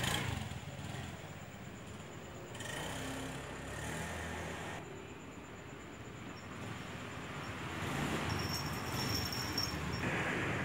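A Honda Scoopy scooter is taken out for a test ride after its stiff handlebar steering is repaired, with a faint engine drone passing in the distance amid outdoor road noise that swells and fades over several seconds.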